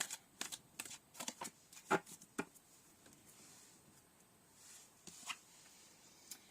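Tarot cards are shuffled by hand in a quiet room, giving a series of soft, crisp riffling and tapping bursts with short pauses between them, close and clear with no talking.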